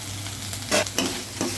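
A frying dish seasoned with pepper is stirred in a pan, three distinct scraping strokes over a steady sizzle and low hum, close and moderately loud.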